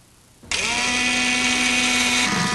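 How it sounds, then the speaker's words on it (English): A power drill starts abruptly and whines at a steady high pitch, a loud continuous grinding buzz as it bores a 1/8-inch hole through a car's metal body panel, close by. "And drill a 1/8-inch hole."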